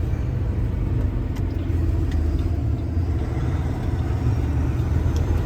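Truck engine running bobtail with no trailer hooked up, a steady low rumbling drone that holds close and even throughout with no talk over it.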